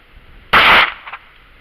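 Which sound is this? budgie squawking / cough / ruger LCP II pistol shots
ruger LCP II pistol shots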